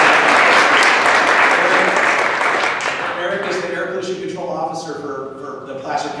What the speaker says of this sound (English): So can we give Eric White a round of applause?